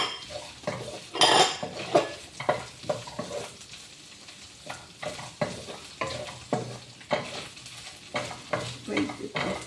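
Leftover rice and ham are stir-fried again in a pan. A spatula scrapes and clatters against the metal in irregular strokes over a soft sizzle, close by, with no talking.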